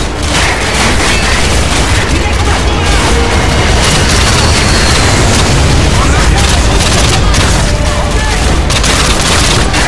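Dense, loud battle noise in Call of Duty MW2: rapid gunfire bursts and booming explosions pile on one another without letup, with a voice talking underneath.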